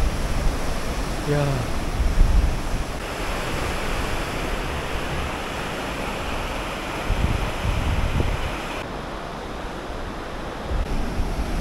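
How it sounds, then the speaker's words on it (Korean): Ocean waves break continuously on the Busan shoreline, a loud, steady roar of surf and foaming water with gusty wind. A voice exclaims briefly near the start. "이 부서지는 포말 보고만 있어도 기분이 좋아서"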